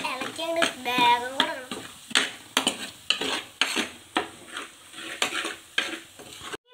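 Spice powders and onions fry in a pan over a wood fire while being stirred fast by hand, giving a series of sharp rhythmic scrapes and clatters over a sizzling bed, close and fairly loud, no talking.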